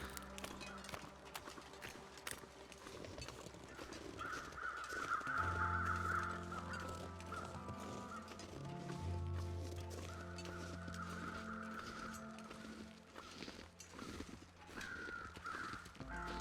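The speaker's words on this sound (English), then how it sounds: "Would never have seen those crows." In the survival video game The Long Dark, crows caw several times at a distance, faint and spread out over a steady low wind-like ambience with scattered clicks.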